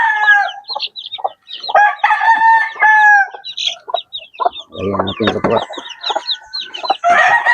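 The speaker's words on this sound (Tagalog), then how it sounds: "Mabait siyang inahin." A mother hen clucks on a small Philippine farm while her chicks peep in high, rapid chirps, with occasional crowing nearby and someone speaking briefly between them.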